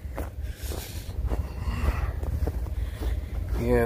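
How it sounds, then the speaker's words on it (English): Cold northeast wind gusting through the woods, a continuous broad rushing roar buffeting the microphone, loud and close, with a voice briefly speaking over it. "As cold as it is, the way the wind's blowing out of the northeast"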